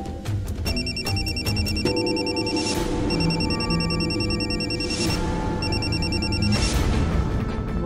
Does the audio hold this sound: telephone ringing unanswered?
yes